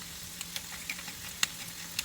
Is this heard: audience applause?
no